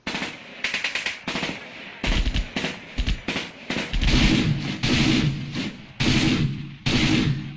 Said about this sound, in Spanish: la unidad FLAC está disparando a distancia